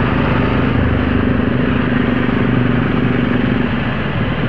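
A motorcycle engine on a Sunday-morning group ride, loud and close with steady rough droning and wind-like roar, no talking.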